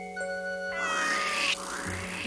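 A cartoon cat meows in a long, loud, rising wail that then drops off, heard alone and close.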